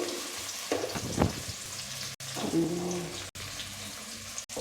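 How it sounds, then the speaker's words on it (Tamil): Onions sautéing in a pan for fish curry, a continuous close sizzle with stirring scrapes and a few abrupt brief breaks, no talking. "வெங்காயத்தை போட்டு வெங்காயம் நல்லா வதங்கின பிறகு"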